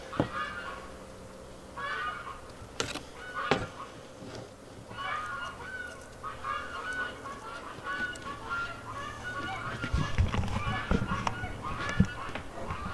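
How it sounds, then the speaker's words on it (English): Geese honk repeatedly outdoors in a flock, with scattered calls through the whole stretch, moderately distant, and a louder burst near the end alongside some low rumbling background. "Those are the shrieking geese."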